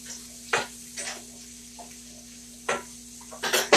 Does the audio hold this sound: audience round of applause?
no